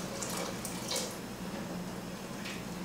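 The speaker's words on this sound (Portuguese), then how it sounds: "Porque eu vou colocar um pouquinho mais de água" Water pours steadily into a cooking pot of sausage steak with cheese, a continuous close splashing rush with brief brighter gurgles, heard alone.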